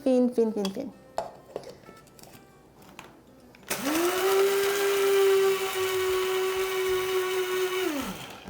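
A small electric grinder whirs at high speed, turning nutmeg and ginger into fine powder. Light clinks and knocks of kitchenware come first, then the motor starts abruptly, holds a steady loud whine for several seconds and winds down.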